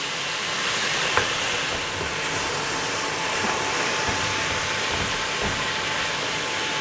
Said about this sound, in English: Now this is going into a reasonably hot pan.